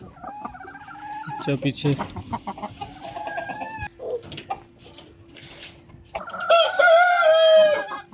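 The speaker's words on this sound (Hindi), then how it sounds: "तो यहाँ पर मेरे कुछ देसी चिक्स हैं, मैं आपको मैं दिखा देता हूँ।" Desi chickens cluck and crow close by, a rooster's crow loud near the end, with scattered clucks, a steady background hum, and someone speaking briefly.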